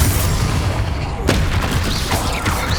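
Rapid explosive spell blasts from Hogwarts Legacy boom one after another in a dense, loud barrage of heavy impacts and crackling bursts, with no pause between them.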